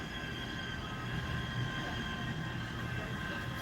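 A train rolls past nearby in a steady, continuous rumble with a faint wheel hum, no talking.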